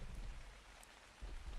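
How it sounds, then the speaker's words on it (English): Rain in the video game Ark Ascended patters softly and faintly in the background, a low steady hiss with a few faint rumbling swells. "It is raining right now."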